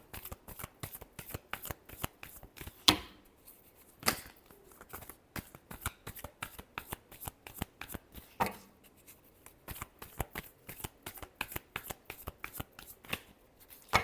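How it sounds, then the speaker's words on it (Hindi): Tarot cards being shuffled by hand, a rapid run of crisp riffling flicks with brief pauses and a few sharper slaps, fairly quiet and close, with no talk. "last shuffle"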